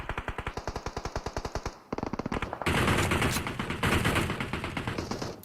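Rapid automatic gunfire from PUBG Mobile, a fast regular burst of loud shots that pauses briefly, then gives way to a denser, louder barrage of overlapping fire with no talk.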